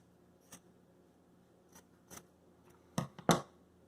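Scissors snip through scrap furry fabric for a DIY face mask craft, a few sparse close cuts at first, then two louder crunchy snips near the end in an otherwise quiet room.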